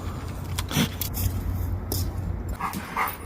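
Dogs make short yips and whimpering sounds over a steady low rumble of nearby traffic, with a faint jingle of metal tags.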